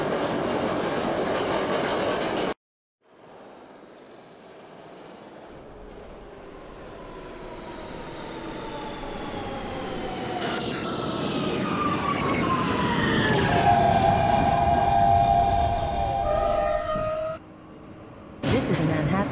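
An R160B Siemens subway train on a local line in the OpenBVE simulator runs after a brief silent cut, with rumbling wheels building steadily and a rising motor whine, then a sharp cutoff before a final burst.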